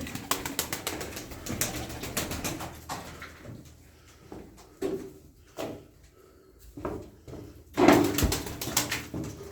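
Erzurum white tumbler pigeons coo in a loft, with a string of soft, throaty coos and scattered bursts of wing flapping and clatter, close and irregular, including one louder flurry near the end.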